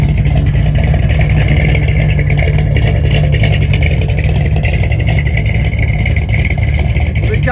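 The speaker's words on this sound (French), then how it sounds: "On a un bruit merveilleux. Ce sont des échappements Flowmaster" A 1964 Mercury Marauder coupe V8 running through Flowmaster exhaust, a loud steady deep rumble at idle that carries on unbroken for the whole stretch, with a voice faintly present under it.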